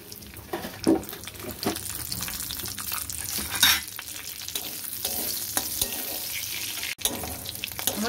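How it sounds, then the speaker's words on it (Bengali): Bay leaf and white cumin seeds fry in extra oil left from frying paneer, a steady crackling sizzle with occasional stirring clinks and spatula scrapes, close and continuous throughout. "আমার জিরেটা ভালো ভাজা হয়ে গেছে"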